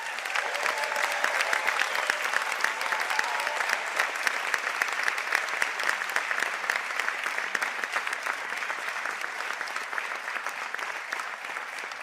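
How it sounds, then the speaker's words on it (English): A large hall audience gives sustained applause for graduates at a college conferring ceremony, a dense, even wash of clapping lasting throughout, heard from a distance and without talk. "I think we might give them one final round of applause for that."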